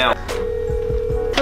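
A telephone sounds a long, steady call tone while a number is dialed, with voices talking softly around it.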